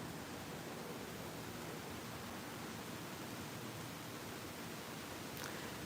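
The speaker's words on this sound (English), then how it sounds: "Here comes the rain." Steady rain falling outdoors, an even broadband hiss that holds unchanged throughout, with no voices over it.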